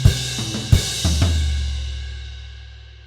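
A drum kit plays bar 12 of a Grade 3 piece, bass drum and crash cymbals hitting the downbeats with a few tom strokes, closing on a long crash decaying over several seconds.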